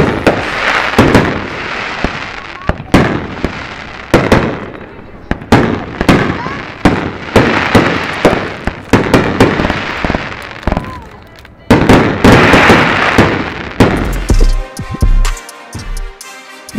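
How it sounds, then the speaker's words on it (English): Sunflower Bomb firework shells burst one after another in loud, booming explosions with crackling tails, irregularly spaced, some close and heavy, ending in a sharp final volley. "Let's hear just how boomy these Sunflower Bombs really are."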